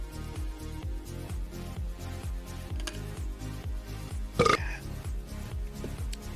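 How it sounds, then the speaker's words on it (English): A single loud belch bursts out near the end, short and close, over a steady, soft rhythmic background pattern. "A giant old belch right in the ears."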